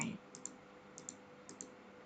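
A computer mouse clicks while picking colors in Photoshop, three quick double clicks spaced evenly apart, crisp and close over a quiet background, with no talking.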